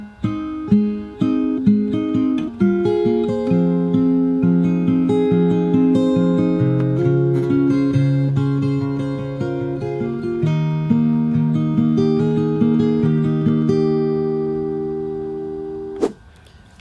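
Fingerstyle acoustic guitar plays the first verse passage of a song at moderate tempo, plucked notes ringing over steady bass tones, clear and close with no talk, ending in a sharp final strum.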